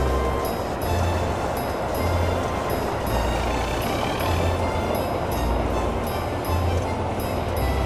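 A steady, loud rumble of a train engine with a repeating low throb, continuous and close, no voices.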